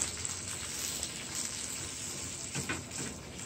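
Shrimp fry in a pan as part of an ackee and shrimp dish, sending up a loud, continuous sizzle with no pauses.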